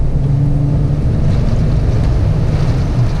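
A Jeep Wrangler JK Rubicon pushes fast through a flooded street, a loud continuous rush of water and spray over a deep engine rumble, close and unbroken.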